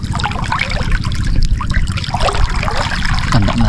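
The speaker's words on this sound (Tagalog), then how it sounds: "Ganda ng agos." Water current flowing along a river channel, a steady close trickling and gurgling wash that runs continuously, with low rumble underneath and no talk.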